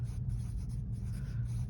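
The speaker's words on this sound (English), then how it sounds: "So I'm just going to write a few notes." Marker writing notes on wax paper: soft, close scratchy strokes in short bursts with brief pauses between them, quiet and without talk.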